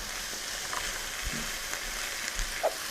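Grated cassava and hearts of palm toasting in a drizzle of olive oil in a pan give off a steady, soft sizzle with small crackles, close and continuous, with no voices.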